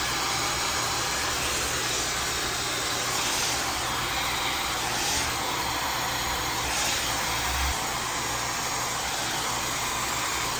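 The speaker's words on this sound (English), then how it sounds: "Going with the diffuser one last time to fluff it out some more." A hair dryer with a diffuser attachment dries and fluffs curly hair, its steady loud airy roar running without a break from start to finish.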